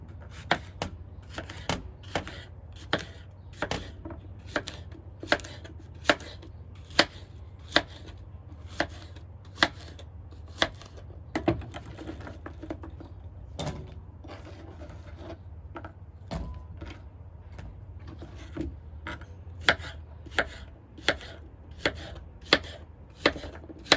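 Zucchini is sliced with a knife on a cutting board, a long run of sharp, evenly spaced taps at a steady rhythm, close and clear over a quiet background, briefly slowing midway before picking back up.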